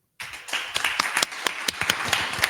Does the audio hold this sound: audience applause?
yes